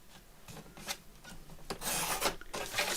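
A sheet of paper for a handmade ideas book is cut to size, producing rasping, sliding strokes that grow louder and denser toward the end, with no voices.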